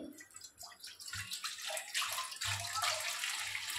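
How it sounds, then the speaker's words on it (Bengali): Water poured into a wok on a gas stove, splashing and gurgling steadily at close range with no talking. "কিছুটা জল দিয়ে দেবো কড়াতে"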